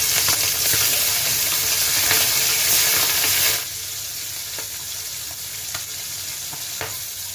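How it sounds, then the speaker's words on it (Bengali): Loud, steady sizzling of tangra fish frying in hot oil, crackling strongly for a few seconds and then settling to a quieter continuous sizzle. "তেলটা গরম হয়ে গেছে, এবার মাছ ছেড়ে দেবো এটা করে"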